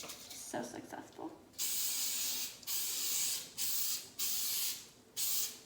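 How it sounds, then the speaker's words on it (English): Several short bursts of cooking spray hissing from an aerosol can into a bowl, each lasting about a second, with brief pauses and light handling sounds before the first spray. "I'm just gonna spray it with some spray. Cooking spray."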